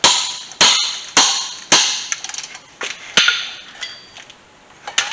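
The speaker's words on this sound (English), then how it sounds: "Usually I have good luck just taking a hammer and beating on the ratchet." A hammer beating on a stuck ratchet while lowering a 1973-87 C10 squarebody Chevy: sharp metallic strikes, about nine of them in an uneven rhythm, loud and close, ringing briefly after each hit.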